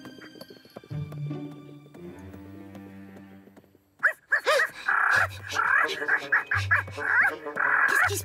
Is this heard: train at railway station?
no